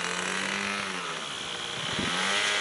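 A model airplane engine in Palmer, Alaska, whines steadily at a distance as the plane flies and comes in to land, its pitch sliding and swelling slightly louder near the end.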